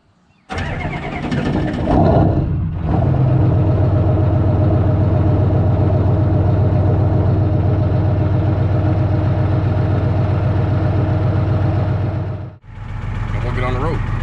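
A diesel engine cranks briefly after its glow plugs warm, catches and settles into a loud, steady, rumbling idle that runs on unbroken, then cuts out before restarting near the end.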